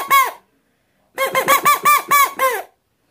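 Common moorhen call imitated on a hunting bird caller: one short squeaky note, a pause, then a quick run of six clucking, squeaky notes, close and clear with no talk.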